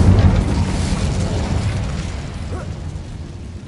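A fiery Incendio spell cast in Hogwarts Legacy, a loud rushing burst of flame with deep rumble that roars at onset and slowly fades over a few seconds, with no voices.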